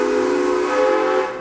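A steam train whistle at the Silver Dollar City theme park gives one sustained, loud, breathy tone that fades out after about a second.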